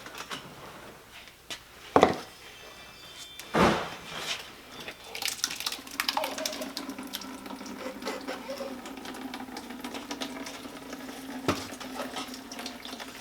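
A few knocks and clunks, then water runs and trickles steadily as it drains, a continuous gurgling flow close by.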